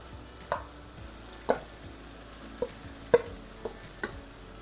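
Minced meat fries with ginger garlic paste for a Pakistani capsicum keema. A spoon clacks against the pan every half second or so over a soft, steady sizzle, with no talking.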